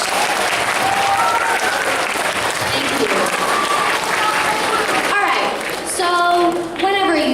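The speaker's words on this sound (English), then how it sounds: "can we get another round of applause for Kristien and Josh?" A school audience in a gym or hall gives loud, continuous applause for two student presenters, a thick wash of clapping with voices calling out, then fading as talk rises near the end.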